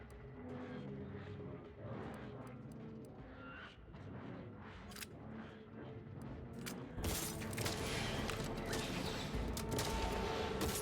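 Shotgun blasts ring out during a firefight in the video game The Outer Worlds, several sharp bursts over a dense, busy battle backdrop that grows louder toward the end.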